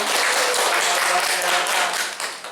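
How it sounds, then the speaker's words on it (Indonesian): An audience of schoolchildren claps for a teacher during a classroom teaching-practice session, a dense, steady patter of many hands that sounds fairly close and fades slightly toward the end. "Tepuk tangan dong"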